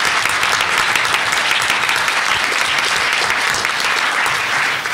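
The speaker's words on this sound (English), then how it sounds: "please a round of applause for the folks here" An audience at a conference plenary applauds, with dense, continuous clapping that stays loud and steady throughout before easing slightly at the very end.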